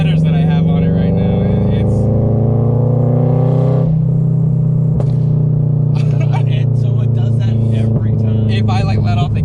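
A straight-piped Toyota GR86 fitted with headers drones loud and close at a deep, rumbling idle, with throttle changes shifting its pitch and brief crackling pops near the end, while people talk over it.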